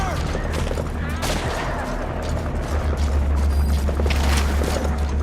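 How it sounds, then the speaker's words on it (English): Sniper shots and heavy booms crack over a busy battlefield in Metal Gear Solid V: The Phantom Pain, with sharp reports over a constant low rumble of mechanical and ambient noise. "Taking a sniper fire!"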